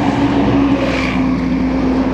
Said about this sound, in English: There's a major dump truck coming up there.